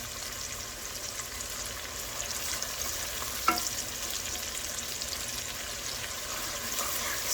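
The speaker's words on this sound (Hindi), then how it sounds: "स्पाइसेस ज़रा भुन जाएं" Spices frying with softened tomatoes in a pan give a steady, even sizzle close by. One brief clink sounds midway, and no one speaks.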